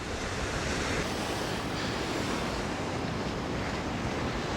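Ocean surf breaking on an Australian beach during salmon fishing, a loud, steady, broadband wash of waves with wind noise throughout and no talking.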